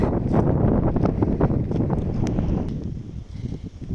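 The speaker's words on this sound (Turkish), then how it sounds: "Çok rüzgar esiyor." Strong wind buffets the microphone with a continuous rough roar and gusty rumbling throughout, no voices.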